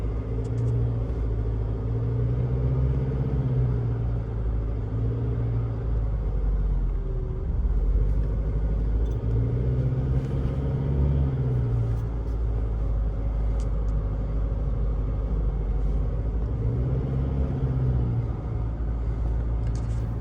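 A car engine drones steadily from inside the vehicle, its pitch rising and falling as it climbs and eases through a series of bends.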